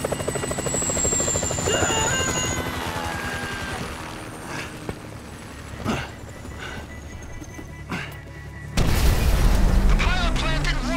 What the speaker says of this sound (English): Can you hear that? Chopper! Incoming!